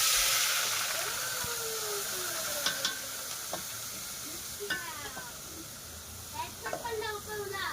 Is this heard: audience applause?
no